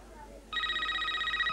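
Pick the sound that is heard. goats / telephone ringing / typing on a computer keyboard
telephone ringing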